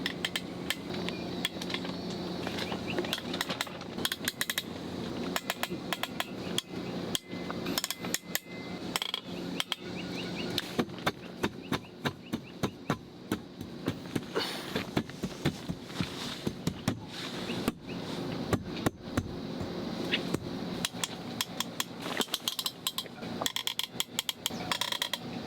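Bolts being fitted by hand onto the railings of a British-built sailing boat, giving a busy run of metallic clinks, taps and ratcheting clicks that carry on steadily throughout with no talking.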